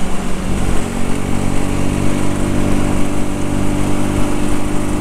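A Rieju Century 125 motorcycle engine pulls hard toward 8000 rpm, a loud, steady, buzzing drone that holds high throughout, heard close with no voices.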